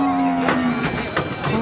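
A Limousin or Simmental cow moos loudly and steadily up close, amid bursts of crowd noise and shuffling at a busy livestock market.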